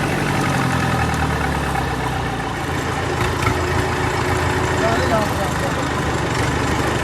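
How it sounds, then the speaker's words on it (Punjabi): Tractors crossing a rough, sandy road, their engines rumbling steadily at a low idle-like drone throughout, fairly loud and close, with people talking faintly. "ਟਰੈਕਟਰ ਲੱਗੇ ਆ ਪਾਰ ਕਰਨ ਹੁਣ"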